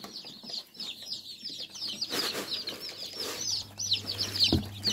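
Quail and other poultry on a farm give off repeated high chirps and clucks throughout, with short bursts of fluttering and rustling in between, fairly close and moderately loud, and nobody talking.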